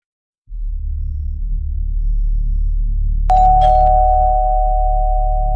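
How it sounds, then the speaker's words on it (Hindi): Against a low steady hum, a single electronic doorbell tone sounds once and holds, ringing on clearly without any voices. "रोहित ने घर के पास जाकर घंटी बजाई"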